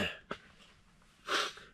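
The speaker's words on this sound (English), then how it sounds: "I'm getting over a little cough." Two short, dry coughs outdoors on a frozen lake, the second louder and breathier, close by with quiet breathing between them.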